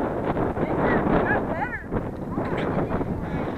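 Strong wind buffets a GoPro microphone on a windy day, a rough, loud rumbling gust noise throughout, with brief voices and whistles faintly mixed in.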